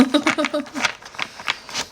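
A deck of animal affirmation cards is shuffled, with quick papery riffles and flicks mixed with someone talking over them, close by.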